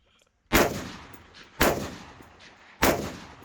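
Three loud rifle shots at steel targets during a 3-Gun match, spaced about a second apart, each a sharp crack with a long echoing decay, heard outdoors with no talk.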